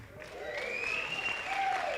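An audience at a creative leadership workshop in the Española Valley applauds and cheers, a sustained close wash of clapping with one loud whooping voice rising above it.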